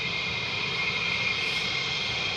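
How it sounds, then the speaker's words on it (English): An F-35 jet taxis out at RAF Lakenheath, a steady, loud whining roar with a piercing high tone that holds evenly throughout, with no voices over it. "Oh, F-35's coming out back of the bike sheds."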